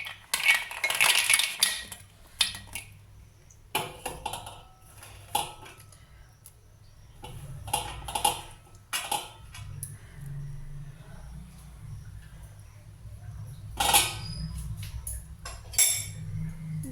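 Spoon clinking and scraping against a pot while Kashmiri pulao is mixed with saffron-soaked milk, fried nuts, raisins and cashews, in scattered metallic bursts separated by quiet stretches.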